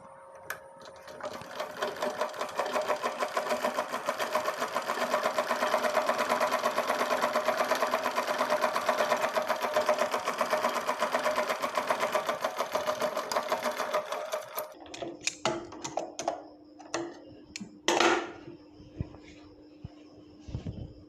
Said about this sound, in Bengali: আমি ডাবল সেলাই দিয়ে নিচ্ছি।